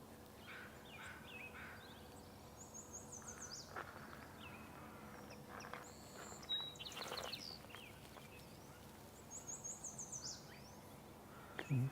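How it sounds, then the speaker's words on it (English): A northern yellow warbler sings at a marsh in the early morning, several short high bright phrases repeated at intervals, moderately distant over a low wash of ambient noise, with faint other calls around. "You can definitely hear that northern yellow warbler right there."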